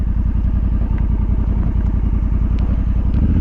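Honda Africa Twin DCT CRF1100L motorcycle engine turning slowly in a car park, a loud, close, steady low throb with an even pulsing beat and no talk.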